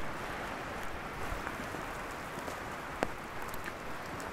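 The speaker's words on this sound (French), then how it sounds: "Ça pleut moins, enfin si on peut dire." Rain falling outdoors during a January countryside hike, a soft, continuous patter with a faint hiss and an occasional sharper drop, fairly quiet and with no voices.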